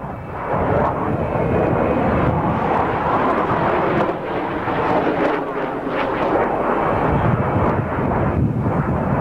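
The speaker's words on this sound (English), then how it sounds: "this Russian Sukhoi performed maneuvers that were aerodynamically impossible" A Russian Sukhoi military jet performing maneuvers gives a loud, sustained broadband roar that swells and dips slightly throughout, with no clear talk.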